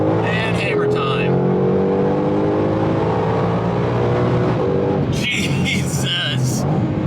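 A 2020 Ford GT500 with a 760 hp engine accelerates hard from inside the cabin, a loud rising engine roar climbing through the gears, with people talking briefly at the start and near the end.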